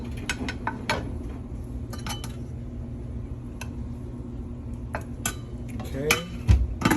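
A spoon scrapes and clinks against a pot while cooked rice is scooped out, with soft scraping and a few sharp metallic taps close by, ending in a louder knock.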